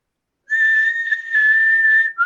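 A person whistles a single sustained, clear high tone for nearly two seconds after a moment of silence, loud and close, wavering slightly before a brief dip and a final short note.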